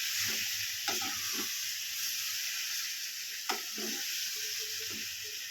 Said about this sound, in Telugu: కట్ చేసుకున్న ఒక 5-6 టమాటాలని వేసుకోవాలి. స్టవ్ని మీడియం ఫ్లేమ్లో పెట్టుకొని ఒకసారి బాగా కలుపుకోవాలి